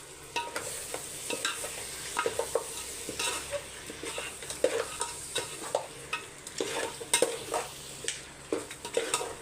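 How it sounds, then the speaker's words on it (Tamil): Yogurt is stirred into mutton biryani masala in a pan, with repeated close scraping stir strokes over a low, steady sizzle of frying. "அதுக்கப்புறம் தயிர் சேர்த்துக்கோங்க இப்போ நல்லா மிக்ஸ் பண்ணிக்கலாம்"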